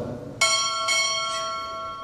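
A ship's bell at a U.S. Navy chief petty officer pinning ceremony rings twice in quick succession, each bright strike leaving a long shimmering ring that fades out alone.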